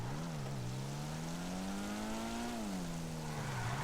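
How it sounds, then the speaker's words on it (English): In GTA 5 Online, a Weeny Issi Rally car's throaty, burbly engine idles and revs gently, its pitch rising and falling against a steady hum. "The vehicle sounds really nice, burbly on startup, really throaty."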